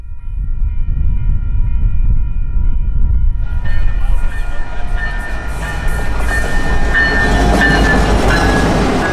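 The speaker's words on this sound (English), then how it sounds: "The eastbound is a rail train bringing company iron to somewhere on the system." An eastbound Union Pacific rail train carrying company rail rumbles past close by at a quiet-zone grade crossing, a steady low roar with rattling wheels and metallic clatter building louder partway through, continuing without pause.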